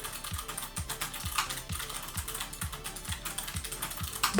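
Clicky mechanical keyboard switches typed in a steady run of sharp, crisp clicks with a faint low thump under each press, close up and without any talk.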